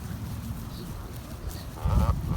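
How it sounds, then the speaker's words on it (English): A flock of geese crossing in a line, with sparse honks early and a louder burst of honking near the end over outdoor ambience. "Hello, geese friends. Oh, it's so cool. There's so many crossing."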